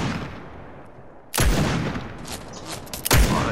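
Two loud, sharp gunshots from a scoped revolver in the Fortnite video game, each a sudden broadband blast with a booming decay, spaced about two seconds apart over low ambient game noise.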